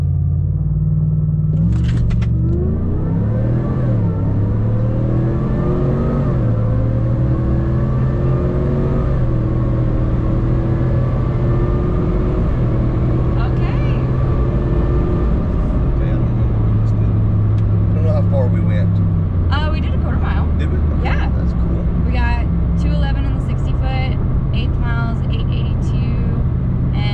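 A loud truck engine revs up and down repeatedly, the pitch climbing and falling in long sweeps over a heavy rumbling drone.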